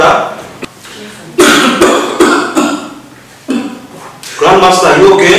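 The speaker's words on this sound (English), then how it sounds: "I'm gonna have a little cough" Someone gives a few close, loud coughs and throat clears amid ongoing conversation indoors in an African drama film scene.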